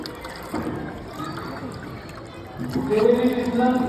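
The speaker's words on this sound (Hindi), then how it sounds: "with the help of water the turbine is rotating" Water pours steadily onto a small model hydro power plant turbine, a continuous close splashing trickle that swells louder toward the end, with someone talking over it.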